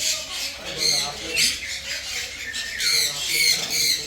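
Harsh, repeated squawks from several parrots at Ramoji Film City, coming in bursts that overlap, with a noisy flock sound throughout.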